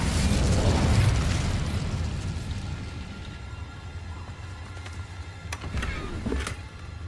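Incendio fire spell from the Hogwarts Legacy video game, a loud whooshing blast that erupts at once and slowly fades into a rumbling tail, with a few sharp crackles near the end.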